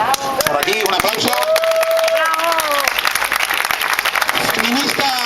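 Audience applause at a citizens' debt-audit talk in Valladolid, a dense burst of clapping from a crowd mixed with a speaker's voice and raised cheers, fairly loud and close throughout.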